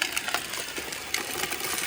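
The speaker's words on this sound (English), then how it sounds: "Runaway Roomba." A Roomba robot vacuum with a broken side spinner runs on a driveway, giving a faint continuous whir with small rattling clicks and scuffs scattered through it.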